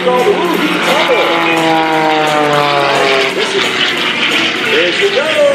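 A propeller aerobatic airplane dives at an airshow, its engine droning loudly and steadily with sweeping tonal shifts as it builds airspeed, while a voice commentates over it.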